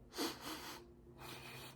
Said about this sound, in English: You don't have to sniff as hard as I'm sniffing.